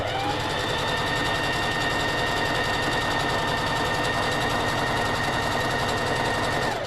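A sewing machine runs steadily while stitching fabric with a back stitch, its motor hum and rapid needle clatter continuous and fairly loud for the whole stretch, close by.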